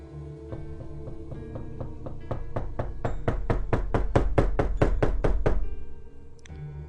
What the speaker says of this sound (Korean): 그래, 노크 소리. 아까 들었던 소리랑 똑같아.